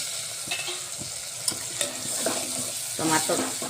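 Chopped tomato lands in a hot pan of fenugreek greens with peanuts, setting off close sizzling and frying with stirring scrapes and clatters.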